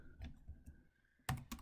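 Computer keyboard typing while setting up an API key in Excel: a few soft scattered keystrokes over a thin steady tone, then a louder burst of clustered clicks near the end.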